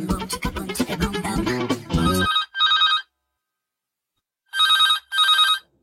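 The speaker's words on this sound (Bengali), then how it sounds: "এখন আবার ফোন দিল কোন সালে?" A telephone rings in two double-burst trills, bright and clear, after a brief stretch of talking and other sound, with silence between the rings.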